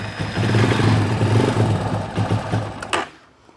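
A 1983 Honda CR250 two-stroke motorcycle engine runs with the choke on, a loud steady buzzing idle that holds for a few seconds, then stutters and drops off near the end.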